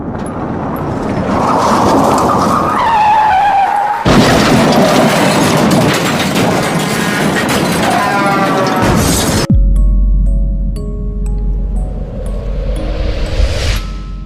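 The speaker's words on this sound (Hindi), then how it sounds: "वह गाड़ी को एक ट्रक ने कुचल दी।" A car struck and crushed by a truck: several loud, dense crashing bursts and rumbling impacts roll on in close succession, broken by a sudden cut into a steady low drone and a rising roar near the end.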